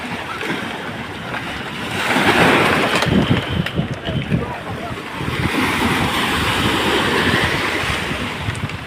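Storm-driven sea waves surge and wash during a typhoon off General Luna, Quezon, a steady roar of surf and wind noise rising after a couple of seconds, with people talking over it nearby.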